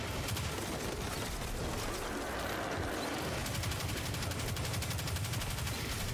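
Rapid gunfire rattles on continuously in Destiny 2, a dense stream of shots at moderate distance with no speech over it.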